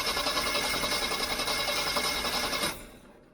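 A Jeep CJ-7 engine fitted with a Weber 32/36 carburetor cranks steadily without catching, a fast rhythmic starter whir that runs for nearly three seconds, then cuts off abruptly.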